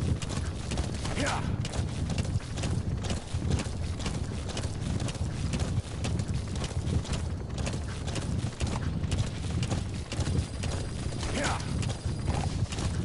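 Horse hooves pounding at a steady gallop in the video game Metal Gear Solid V: The Phantom Pain, a close rhythmic clip-clop running throughout with occasional voice and game sounds over it.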